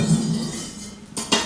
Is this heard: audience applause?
no